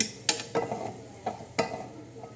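Tomato curry being stirred in a hot pan, giving a few sharp scraping stir strokes over a low, steady sizzle, close and fairly quiet.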